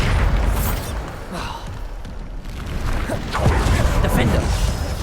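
Bombarda explosion spells in the Hogwarts Legacy video game, heavy booming blasts and thuds repeating amid a dense, noisy fight, with some voice mixed under the impacts.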